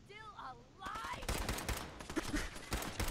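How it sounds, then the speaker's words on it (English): Automated turret gunfire in the video game Fallout 4: bursts of rapid shots and impacts after about a second, fairly loud and continuing to the end, following a brief stretch of tonal game sounds. "Oh, that's the turret."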